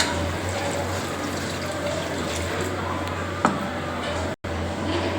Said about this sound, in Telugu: ఇప్పుడు నేను నాటుకోడి కనుక ఒక 2 గ్లాసులు వాటర్ వేసుకుంటున్నాను